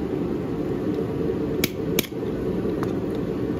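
Someone tries to break a chain by hammering on its rivet: three or four sharp metallic taps, the loudest pair close together, ring out over a steady droning background.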